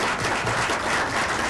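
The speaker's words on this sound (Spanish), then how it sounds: "un aplauso muy fuerte" A brief burst of strong applause from an audience, dense steady clapping close by with no voices over it.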